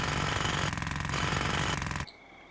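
Jackhammer pounding rubble in a demolition simulator game, a loud continuous rapid hammering for about two seconds that then cuts off abruptly, leaving faint background hum.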